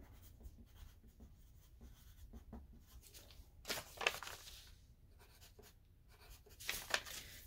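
Pencil scratching across a paper dress pattern while labels are written, a faint, quiet series of short strokes with a couple of louder scribbles near the end.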